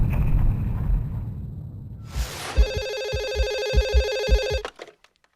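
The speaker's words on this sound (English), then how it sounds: "over black, the phone rings. It's a shrill jolt of audio to get us in." A shrill telephone ringing from the horror film Scream: after a low rumbling, then a rising whoosh, a loud bright electronic bell rings steadily with rhythmic pulses for a couple of seconds before cutting off abruptly.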